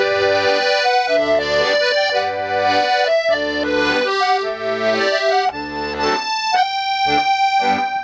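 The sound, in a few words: accordion playing a song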